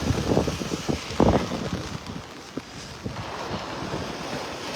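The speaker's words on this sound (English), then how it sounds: "The wind feels like actually it's coming out of maybe the southeast here now." Wind gusting across a beach in North Naples, Florida, heard as a loud, steady low rumble of wind buffeting the microphone, with stronger gusts swelling near the start and no voices.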